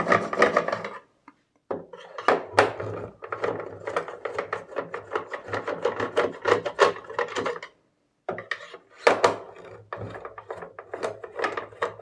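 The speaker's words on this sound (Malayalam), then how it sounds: "ഇത് സ്ക്രൂ ഡ്രൈവർ ഉപയോഗിച്ച് ഇത് സ്ക്രൂകൾ" A screwdriver working out the screws of a UPS case, giving repeated rasping, ratcheting scrapes in close, uneven bursts with one brief pause, no voices.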